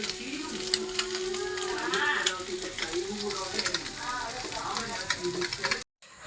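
Fish sizzling and frying in coconut oil in a pan, a steady bright crackle with spitting pops throughout, close up, cutting off just before the end.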